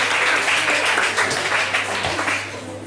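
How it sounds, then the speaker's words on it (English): An audience at a university stage hypnotist show in Birmingham gives a steady round of applause, many hands clapping together close and full before it begins to thin toward the end. "you can give them a round of applause"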